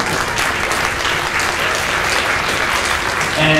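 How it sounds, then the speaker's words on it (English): Audience applause honoring a color guard instructor at a high school event, a steady, dense wash of clapping from a crowd that holds evenly for several seconds. "What a big round of applause for Mrs. Jeannie Casiago"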